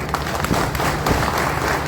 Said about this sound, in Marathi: भाई या मागण्याला टाळ्या किती म्हणतात बघा